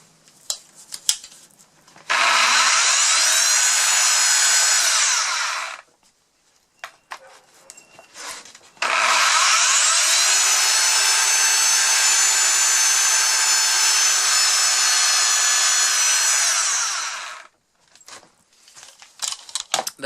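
A Ridgid R2740 belt sander runs on pieces of wood with a loose, wandering belt, giving two sustained loud grinding bursts, roughly three and eight seconds long, separated by a pause with faint handling knocks.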